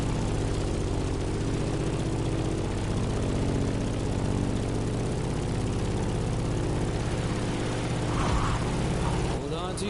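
A steady, droning propeller aircraft engine in The Crew Motorfest video game hums continuously and loudly throughout, with a brief shift in tone near the end.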